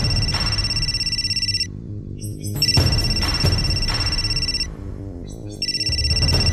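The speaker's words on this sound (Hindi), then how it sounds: "राबिया का फोन है सर" A telephone rings in repeated electronic trilling bursts with short gaps between them, over low background music and ambience.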